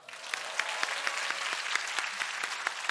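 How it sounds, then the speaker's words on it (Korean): A comedy show audience gives brisk, dense applause, with quick overlapping claps and a few crisp louder hits, lasting about three seconds at a steady level. "박수 주세요"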